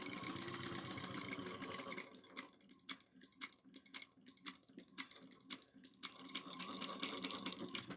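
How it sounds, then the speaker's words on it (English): Sewing machine top stitching a small card wallet, a fast rhythmic mechanical chatter of needle strokes, with slower, distinct individual stitches in the middle before speeding up again, fairly quiet and close. "We're going to top stitch just that 1/8 of an inch."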